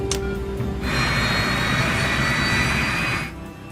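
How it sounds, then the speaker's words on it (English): Jet engines spooling up on a Yak-42 airliner during start, a steady loud turbine whine and roar that rises sharply, holds for a few seconds, then drops away. "The crew starts the Yak's 3 engines"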